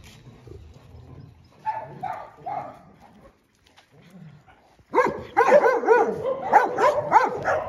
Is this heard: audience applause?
no